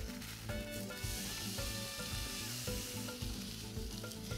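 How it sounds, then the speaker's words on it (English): Skirt steak sizzling in a hot pan alongside spring onions, a steady frying hiss with rhythmic thumps and tonal layers beneath it, continuous and close, with no talking. "in the same pan as the spring onions, we're going to cook this for about 3 to 4 minutes on each side"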